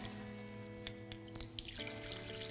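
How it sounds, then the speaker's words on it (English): Orange bitters poured through a sieve into a bowl, a soft steady trickle of liquid with a few light drips, quiet and close, with no voices. "Bowl, sieve, pour it through."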